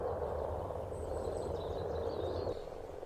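Male frogs croak together in a breeding chorus that echoes across a valley, a steady dense wash of calls held close and continuous with faint higher chirps over it and no voices.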